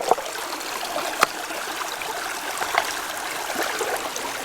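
A small cold stream in a trout-fishing river area flows with a continuous bright babbling and trickling, close and moderately loud, with occasional splashes standing out.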